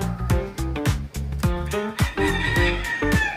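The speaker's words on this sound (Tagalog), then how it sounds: "May tumitilaok pa. Kasama sa video natin yung pagtilaok." A rooster crows repeatedly in rapid, loud bursts with harsh, rising-and-falling calls, near and dominant, with no talk over it.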